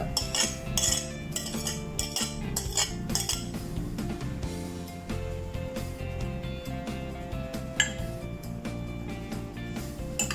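Chopped capsicum, corn and tomato tipped into a bowl for a Mexican salad, giving a steady run of clinks and scrapes of utensil against dishware over continuous background music, with no talking.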